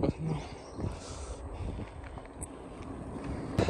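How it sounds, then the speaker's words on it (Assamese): Gusty cold wind buffets and rushes close by throughout, with a couple of sharper bursts at the start and the end, in Dong Valley. "এইফালে পুৰা ঠাণ্ডা বতাহ মাৰি আছে।"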